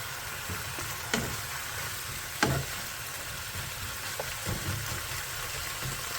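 Chicken fries in a hot pan with a soft, steady sizzle, and the stirring adds a few sharper scrapes and clinks throughout. No one speaks over it.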